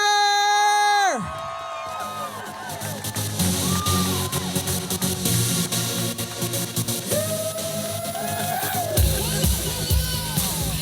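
A rally crowd whoops, yells and cheers loudly and continuously for comedian Kevin Skinner after a brief tonal musical sting opens the stretch.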